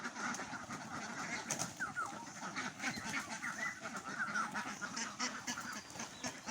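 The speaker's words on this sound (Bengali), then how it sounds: "তো দেখেন হাঁস সব কিন্তু অলরেডি বেরোনো শুরু করছে" Ducks at a duck farm in the morning quack in a busy, overlapping chorus as the flock is let out, heard faintly from a moderate distance.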